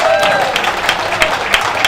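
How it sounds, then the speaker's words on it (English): Crowd applause at an outdoor Democratic Party picnic in Clark County, Indiana, a steady wash of clapping with a few sharper peaks, loud and continuous throughout. "Let's give everybody a round of applause"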